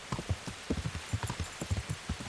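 Horse hooves clip-clop in the medieval role-playing game Kingdom Come: Deliverance, a quick, regular gait of soft, close thuds at moderate loudness with no talk over them.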